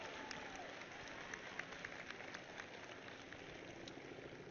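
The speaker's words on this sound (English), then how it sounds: "Please give them a round of applause." An audience applauds at a Fourth of July Independence Day event in Philadelphia with steady, even clapping from a large crowd, heard distant and faint with no talk over it.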